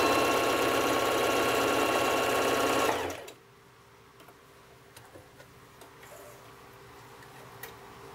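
A Singer Heavy Duty sewing machine stitches a zigzag in one loud, steady whirring run for about three seconds, then stops and leaves only faint ticks and small handling noises.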